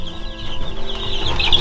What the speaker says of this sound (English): We have created our own Sex-Link breed of chicken.